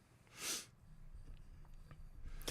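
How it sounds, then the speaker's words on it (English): A person sniffling: one short, sharp breathy sniff early on, then quiet room sound, and a second quick sniff right at the end, close and faint overall. "You guys can hear I will be doing some sniffling."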